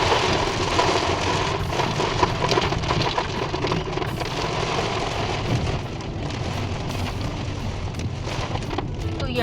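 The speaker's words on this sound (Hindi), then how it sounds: "और ऐसे बारिश हो रही है।" Rain falls on a car during a monsoon road trip toward Malshej Ghat in Maharashtra, a dense continuous patter with scattered sharper drops hitting the vehicle, loud and close, without talk.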